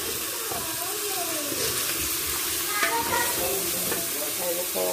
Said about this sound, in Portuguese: Botei alho, cebola, pimentão e coloquei um pouquinho de banha para refogar, para botar aquela costela